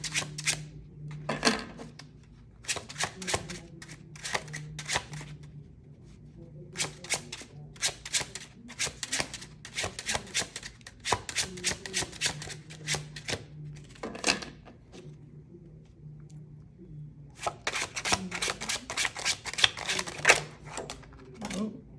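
A deck of playing cards being shuffled in repeated riffle bursts of crisp fluttering clicks, each lasting a second or two with short pauses between, close and fairly quiet, with a low steady hum underneath.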